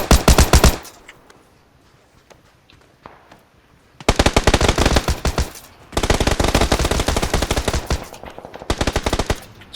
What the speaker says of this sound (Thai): มิก ยิงมันอยู่ตรงต้นไม้